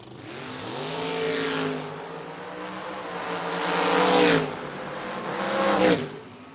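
A Nova and a Camaro drag racing at a no-box 660 shootout tear off the line together, their engines howling loudly through rising gear pulls with brief dips between shifts, heard up close.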